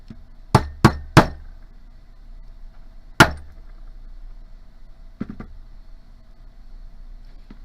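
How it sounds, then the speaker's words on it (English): A hammer strikes a dapping punch to curve a small piece of metal for a ring, three quick sharp blows, a pause, one more strike, then a couple of lighter taps, close and ringing. "I'm going to hammer it"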